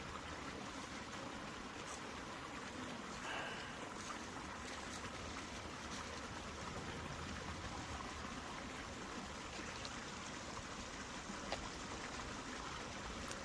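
Creek water flowing and trickling steadily outdoors, a soft continuous wash with faint bird or insect tones above it, quiet and even with no talking.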